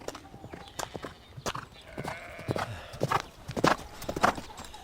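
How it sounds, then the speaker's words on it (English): Horse hooves clip-clopping at a steady walking rhythm near a barn, close and clear with no talking over it. "He's on a horse."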